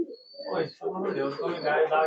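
High-flying pigeons in a loft coo in soft, throaty, rolling phrases close by, one bout trailing off before a longer run of overlapping calls, with a person talking over them.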